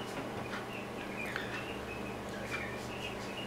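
Birds sing faintly in the distance, with scattered short chirps and trills over a steady background hiss and low rumble.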